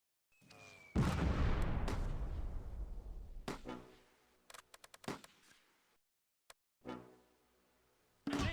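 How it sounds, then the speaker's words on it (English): Heavy gunfire and artillery from a Close Combat WWII battle at Nijmegen: a loud sustained barrage that fades, followed by scattered sharp shots and distant booms separated by brief silences. "We're under heavy fire."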